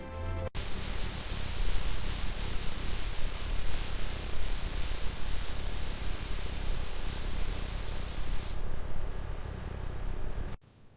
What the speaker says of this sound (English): Observe the symmetrical precision of our robotic spray arms.